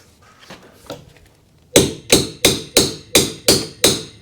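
Seven loud, evenly spaced hammer blows ring out on metal, close by, after a few softer taps at the start.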